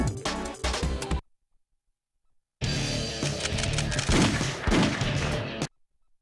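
Bursts of soldiers' gunfire in the GameCube game Shadow the Hedgehog, a short dense volley, a silent gap of over a second, then a longer loud barrage of shots mixed with game music and effects.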